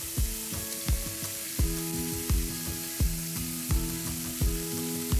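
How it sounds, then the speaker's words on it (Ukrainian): Burger patties frying in a pan, a steady close sizzle under repeated metallic clinks and taps of a utensil at a regular pace. "Поки котлети смажаться"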